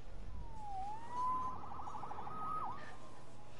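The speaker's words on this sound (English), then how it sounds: "Saved by the siren." A siren wails faintly in the distance, two rising and falling sweeps over a quiet low background hum, with no voices.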